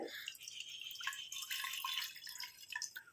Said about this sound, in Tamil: இப்போ இதில் வந்து ஒரு கப் அளவுக்கு நான் தண்ணி சேர்த்துக்கிறேன்